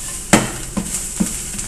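A veggie omelet with browning onions sizzles steadily in a hot pan, punctuated by three sharp scrape-and-clack hits as a utensil flips and stirs it.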